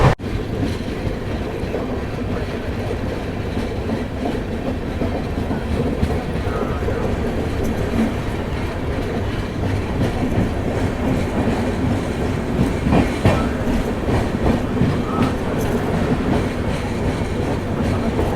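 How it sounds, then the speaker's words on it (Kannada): Mysuru Express train running on rails around Bangarapet Junction, a continuous loud rumble with rhythmic clickety-clack of wheels heard from inside the coach, steady throughout. "train number one to six zero nine ಇವಾಗ ಸದ್ಯಗೆ ತಲುಪಿದೆ ಬಂಗಾರಪೇಟ್ ಜಂಕ್ಷನ್ಗೆ"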